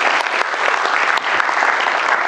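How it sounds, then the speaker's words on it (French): Dense, steady applause from an audience at a comedy roast event in Dinard, filling the whole stretch with close, even clapping. "Vraiment, je pense qu'on peut applaudir Isabelle pour ça"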